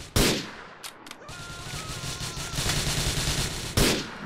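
Gunfire in GTA IV: a loud single shot opens, then a quieter spell of game ambience, and another sharp blast lands near the end, all close and punchy.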